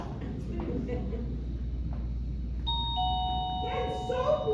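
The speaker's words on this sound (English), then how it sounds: "ring the doorbell" A doorbell chimes with clear ringing tones over faint background voices and room noise during a stage play performance.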